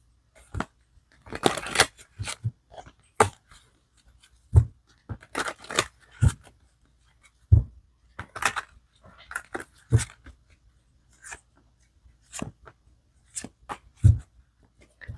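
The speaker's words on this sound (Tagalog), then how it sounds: "Balasahin natin." Tarot cards being shuffled, heard as a series of short, close papery riffles and slaps in irregular bursts separated by quiet gaps, with no talk over them.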